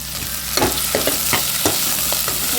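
Chilies and curry leaves fry loudly in hot oil, a bright continuous sizzle broken by several clattering spatula strokes at an irregular pace.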